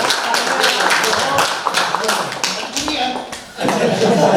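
Audience applause at a poetry recital, clapping that runs loud and dense through most of the stretch with a brief dip near the end before swelling again, with voices and chuckles mixed in.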